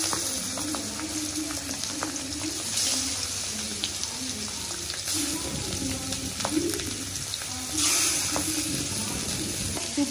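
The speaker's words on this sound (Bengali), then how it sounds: "তেলটা গরম হলে মাছগুলো দিয়ে দিবে।" Pangas river fish frying in a little hot oil gives a steady, even sizzle close by, with faint murmuring voices in the background and a slight surge near the end.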